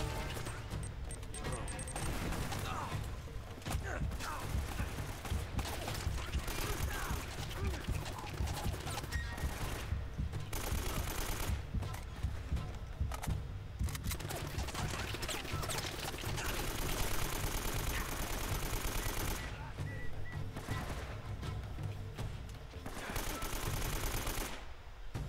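Rapid AK automatic gunfire in the video game Uncharted: Drake's Fortune, sustained bursts of shots with crashes and impacts in a dense, continuous battle mix.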